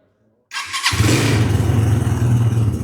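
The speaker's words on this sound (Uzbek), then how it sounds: "oldindan motosikletni yoqib ko'rsatamiz." A Dayun 200cc motorcycle engine cranks briefly and then catches, settling into a steady, loud idle close by with no talking.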